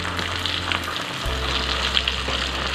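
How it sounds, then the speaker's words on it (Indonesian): Flour-coated tilapia fish frying in hot oil gives a steady, dense sizzle and crackle that continues unbroken with no voices over it. "Sekarang kita lanjut aja goreng ikannya."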